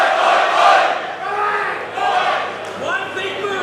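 A wrestling arena crowd roars and chants in loud swelling waves, with shouts rising and falling over a commentator's voice.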